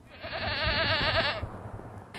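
A goat hired for brush clearing, trained to graze vegetation, lets out one long, wavering bleat at close range that fades after about a second, with no talking.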